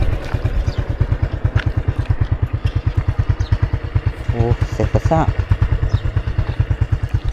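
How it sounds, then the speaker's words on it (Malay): A motorcycle engine runs at idle, loud and close, with a steady pulsing throb throughout while someone speaks briefly over it. "Enjin motor masih hidup."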